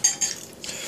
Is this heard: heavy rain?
no